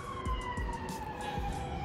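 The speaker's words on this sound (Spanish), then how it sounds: "Escuchan muchas sirenas de ese lado." An ambulance siren wails as it passes outside a concert venue in Mexico City, a steady rising and falling tone over low rumbling street traffic, moderately close.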